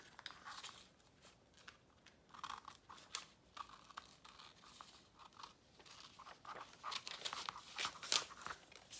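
Sewing pattern paper being trimmed with scissors and crumpled, giving irregular close crinkles, rustles and snips that come in bursts and grow louder toward the end, with no talking.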